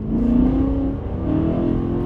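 A BMW M3 engine revving hard from inside the car, a loud sustained mechanical drone rising and falling in pitch over about two seconds.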